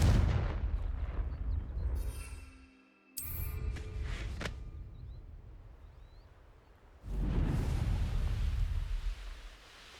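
A Confringo blasting spell explodes in the Hogwarts Legacy video game, booming bursts with rumbling crackle and a sharp burst midway, then a heavy roaring swell of blast noise. No one talks.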